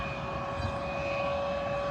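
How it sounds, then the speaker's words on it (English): A plane taxiing on an airport runway gives off a steady, droning engine hum with a high whine running through it, constant and moderately loud with no voices. "that is Jenny's plane right there, taxiing the runway"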